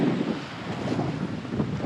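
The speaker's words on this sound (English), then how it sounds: "there's pretty decent sized waves here" Wind buffets the microphone over steady rushing sea noise aboard a Hunter 33 sailing yacht in fairly large waves off Cape Canaveral, with broadband gusts and splashes continuing throughout.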